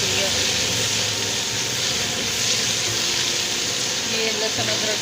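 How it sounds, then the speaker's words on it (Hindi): Garlic and ginger fry in a pan, giving a continuous, fairly loud sizzling hiss that holds steady throughout, with a voice talking over it. "ये लहसुन अदरक फ्राई हो गया।"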